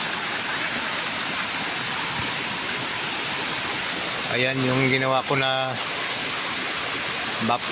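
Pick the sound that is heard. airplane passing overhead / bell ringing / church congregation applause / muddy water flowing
muddy water flowing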